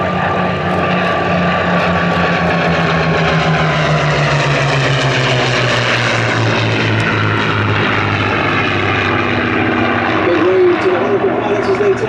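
A P-51 Mustang propeller fighter lands at an airshow, its engine drone loud and steady throughout, with a pitch slowly falling as it passes and a commentator talking over it.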